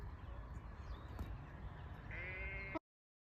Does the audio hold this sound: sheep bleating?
yes